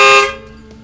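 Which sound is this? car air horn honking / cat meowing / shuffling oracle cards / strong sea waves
car air horn honking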